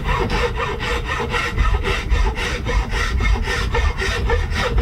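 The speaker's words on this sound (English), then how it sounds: "I'll start with a big file on the back, and I'll slowly remove the material to get it down to the edge of the knife blade." A large hand file rasps steadily back and forth across a brass and ebony knife handle in a vise, a dense, even scraping stroke after stroke, close and continuous with no talk.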